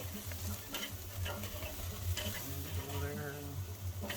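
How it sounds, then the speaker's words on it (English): Steaks searing over a flame on an outdoor deck grill, making a continuous close sizzle with scattered crackles and small shifting sounds. "this is how you sear in the flavor"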